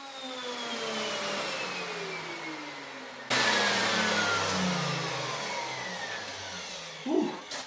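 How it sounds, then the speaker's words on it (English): Router moulding timber sections for a replacement window, a steady high mechanical whine that shifts pitch and jumps louder midway as the cutter bites the wood, ending with a brief knock. "being that we're using the router, a couple of passes just to make it light work on the machine"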